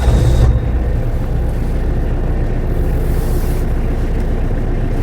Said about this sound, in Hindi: लेट्स सी इंजन की साउंड क्या है क्या नहीं है, because this is an old engine